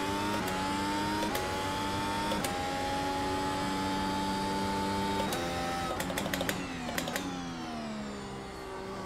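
Race car engine in the Formula A racing game at Magny-Cours, with a damaged front wing, heading into the pits: a steady whining drone with gear shifts and rev changes, loud and close, with a few clicks near the end.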